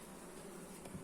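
Honey bees drone at an open hive in a steady, close, continuous buzz with no voices.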